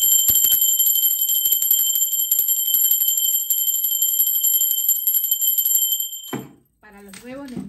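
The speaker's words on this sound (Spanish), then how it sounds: "el sonido de campana, energía para mi ser divino" A bright bell rings with a sustained shimmering tone that rings on for several seconds, then fades as a voice begins speaking.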